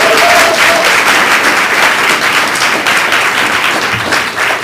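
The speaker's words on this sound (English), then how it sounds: "We should give him a big round of applause" Sustained, loud audience applause at an award event fills the room, steady dense clapping from a large crowd with no break throughout.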